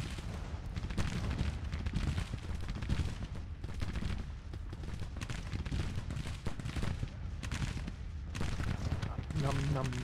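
Civil War artillery battery barrage in a video game, dense continuous rumbling booms and crackling gunfire filling the whole stretch, steady and loud throughout.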